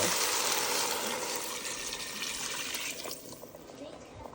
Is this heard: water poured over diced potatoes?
yes